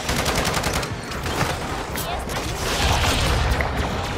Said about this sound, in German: Geschütz eingesetzt!